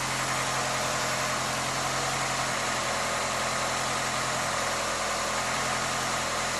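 Fully built 2006 Mitsubishi Eclipse GS engine idling right after its first start-up, a steady low hum with even vibration, constant and unbroken throughout, no voices.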